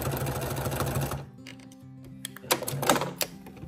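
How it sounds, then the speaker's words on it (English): A sewing machine fitted with a walking foot stitches quilted fabric in a quick rattling run, stops briefly, then starts again in short bursts, close and moderately quiet. "If we were to just start sewing"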